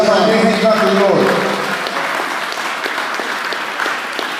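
Church congregation breaking into loud applause during a sermon, with a voice at the start, then dense sustained clapping that settles to a slightly softer level.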